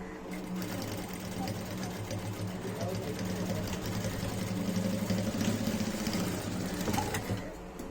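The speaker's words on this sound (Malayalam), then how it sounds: "ഇവിടെ ഒരു സ്റ്റിച്ച് കൂടെ ചെയ്ത് കൊടുക്കാം." A sewing machine stitches old shirt fabric up close, with a steady, fast mechanical whirring and clatter that runs continuously and gets slightly louder toward the end.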